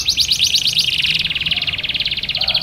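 A canary sings a fast trilling song of rapid repeated notes close by. The phrases roll straight into one another without a break, with no other sound over them.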